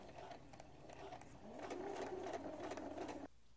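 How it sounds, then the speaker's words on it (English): A sewing machine runs a regular straight stitch on quilt fabric with a fast, steady mechanical whir and rapid needle clatter. It grows slightly louder midway, then stops abruptly. "Now I'm just doing a regular straight stitch."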